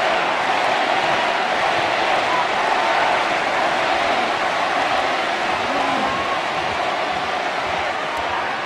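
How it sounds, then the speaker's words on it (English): A large wrestling arena crowd roars and chants for Omega during a long, grueling match against Okada, a dense sustained wall of voices filling the hall throughout. "Crowd chanting for Omega."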